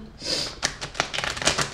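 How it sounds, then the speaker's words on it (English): A deck of cards being shuffled close by: a quick riffle of papery flutters and soft slaps in several short bursts, with light breathing between them. "So let me shuffle them now."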